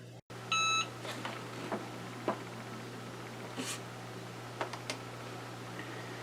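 A heat-press timer gives one short burst of electronic beeps near the start while an infusible ink coaster is being pressed, followed by faint ticks and near quiet.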